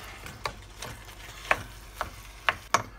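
Bolognese sauce being stirred in a pan, soft scraping strokes and light clicks of the spoon against the pan repeating every half second or so, with a faint sizzle underneath.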